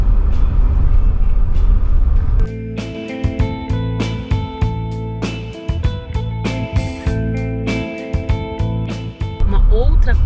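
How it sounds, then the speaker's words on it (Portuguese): A RAM Rampage 2024 pickup creeping slowly around a muddy curve. A low engine hum runs throughout with uneven knocks and thumps from the mud and the body. Someone talks over it. "Curva em lama agora é para testar a capacidade do carro de sair."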